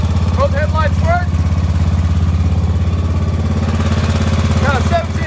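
A John Deere S100 lawn tractor with a 17.5 horsepower engine runs steadily and close by, a constant low mechanical drone that holds throughout, with brief chirpy sounds above it.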